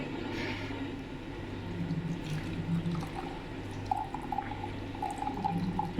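Liquid pours and trickles steadily through a strainer, a soft continuous splashing with faint clinks near the end, no one speaking.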